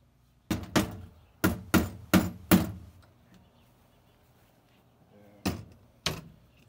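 Hammer blows driving nails into roof braces on a wooden chicken coop, a quick burst of five sharp strikes followed by a pause and two more, close and distinct in a quiet outdoor setting.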